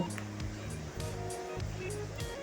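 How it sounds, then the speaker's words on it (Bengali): Spice-coated lote fish frying in a pan of hot mustard oil gives a quiet, steady hiss and sizzle throughout, with a faint voice murmuring underneath. "এবার মশলা মেখে রাখা লোটে মাছ আমি এর মধ্যে দিয়ে দেব।"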